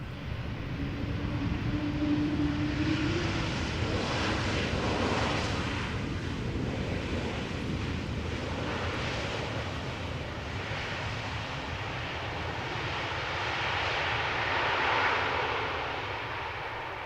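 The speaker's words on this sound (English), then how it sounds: "Next, an E2 Embraer 195, following closely. Already almost touching down." Embraer 195 E2 airliner of KLM, a brand new aircraft, landing at Amsterdam Schiphol Airport, engines producing a steady broad roar heard at a distance, with wind noise throughout and no talk.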